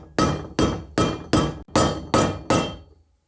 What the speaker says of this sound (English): now I'm going to drive that in with a 30mm socket that fits right onto the metal part of